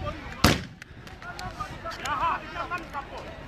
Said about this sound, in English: Those are gunshots going off,